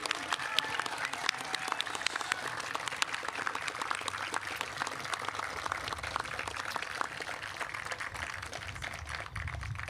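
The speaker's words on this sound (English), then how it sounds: "Please join me in a round of applause" Crowd applause at the Cal Maritime commencement ceremony, a dense, continuous clapping from a large audience with a few voices mixed in, heard from a little distance at moderate level throughout.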